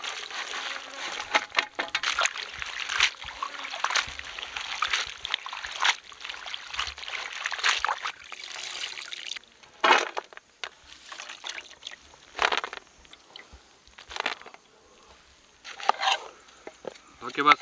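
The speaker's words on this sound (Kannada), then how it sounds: "ಹಾಕಿ ಬಸ್ಸು ಇನ್ನೊಂದು ರೌಂಡ್ ನೀರು. ತೊಳಿ ಬಸ್ಸು ನೀರು." Water splashes and trickles over karimeen fish as they are rinsed in a basin, with irregular pouring and sloshing bursts at close range, no talk.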